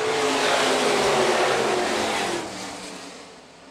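IMCA Northern Sport Modified race cars roar past at Phillips County Raceway, a loud sustained engine drone from a pack that fades noticeably as they move away.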